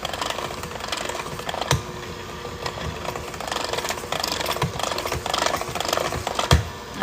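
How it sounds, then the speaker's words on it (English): A spoon stirs dry ingredients into wet banana bread batter in a bowl, making a steady close scraping and rubbing with a few soft knocks against the bowl, and no one talks. "I'm gonna just slowly mix it in with the wet"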